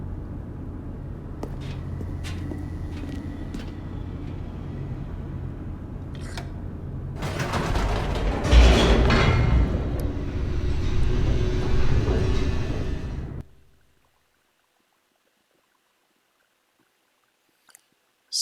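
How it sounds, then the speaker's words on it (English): A descending elevator in The Stanley Parable: a steady low mechanical hum and rumble builds into a louder rushing roar with rattling, then cuts off abruptly into near silence, ending with a faint click. "The elevator raced downward, plummeting towards an unknown fate."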